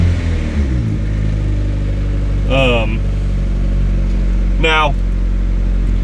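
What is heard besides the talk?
car engine idling on cold start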